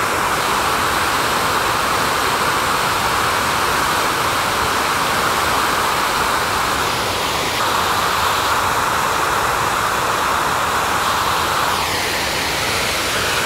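The Narai River in Matsumoto, swollen with high water, roars steadily beneath a bridge, a loud, unbroken rush close by.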